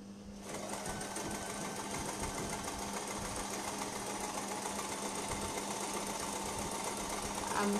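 A sewing machine runs steadily, stitching a seam on a baby frock's sleeve joint, a continuous close mechanical whir lasting throughout with a slight rise at the end.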